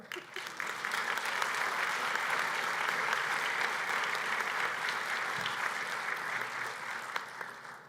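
An audience at a meteorological society award ceremony gives a winner sustained applause, even steady clapping from a large room that holds for several seconds before tapering.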